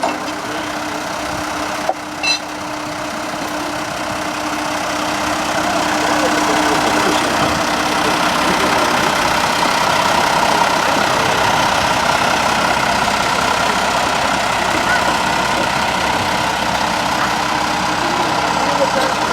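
Lady Wakefield, a locomotive on the Ravenglass and Eskdale Railway, idles at a station platform with a steady low engine rumble that swells slightly and then holds, near and continuous throughout.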